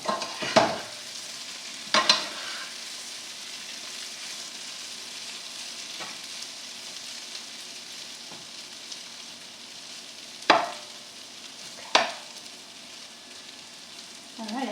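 Mushrooms browning in a non-stick pan give a soft, steady sizzle, broken by a few louder scraping stirs spaced several seconds apart.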